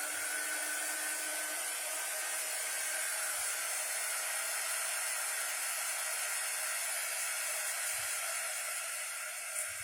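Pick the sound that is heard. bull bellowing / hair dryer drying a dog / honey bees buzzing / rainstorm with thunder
hair dryer drying a dog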